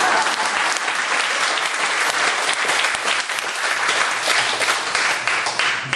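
Sustained applause from a church congregation at an evening worship service fills the room, dense steady clapping throughout at even loudness with no break.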